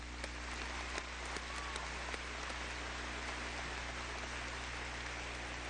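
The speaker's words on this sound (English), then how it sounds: "let's give them all a big round of applause." Faint, distant applause from a high school commencement crowd for honor graduates, a steady hissing wash of clapping under a constant low hum, with a few sharper claps standing out.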